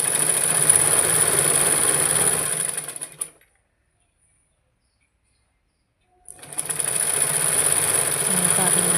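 Sewing machine stitching a folded hem in a straight line, a steady motor whir running loud and close, cutting off into silence for a few seconds before starting up again.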